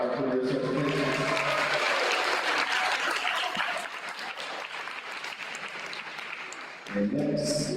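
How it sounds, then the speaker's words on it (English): Audience applause at an academic awards ceremony for career certification recipients, a sustained burst of clapping in a hall, with a voice speaking before and after it. "Can we clap up all of our career certifications?"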